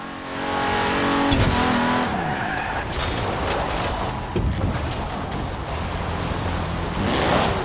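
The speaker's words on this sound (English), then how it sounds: "Even though she's got a drift tune on it, she can still do a drag." A 1952 Hudson Hornet with a rear-wheel-drive drift tune in Forza Horizon 4 roars close up as its tyres squeal and skid through a slide, engine revving hard over continuous loud tyre noise.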